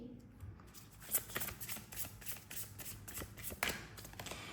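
Oracle cards for a tarot reading are shuffled by hand in quick, close, riffling flicks that repeat steadily, soft and crisp against a quiet room.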